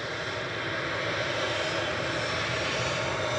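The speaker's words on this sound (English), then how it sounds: "Tap departing back to Lisbon." A TAP airliner departing Manchester Airport, its engines giving a loud, steady roar with broad rushing noise that builds slightly, heard from nearby with no voices.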